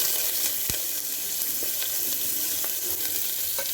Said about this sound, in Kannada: ಈಗ ಇದನ್ನು ಬ್ರೌನ್ ಕಲರ್ ಬರುತ್ತೆ ಅಂತ ಹುರ್ಕೋಬೇಕಾಗುತ್ತೆ